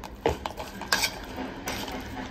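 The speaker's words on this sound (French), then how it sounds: "Maintenant, on va mélanger tout ça." A utensil scrapes and clinks against a pan while food is stirred and mixed, producing a few light metallic taps over a soft background hiss.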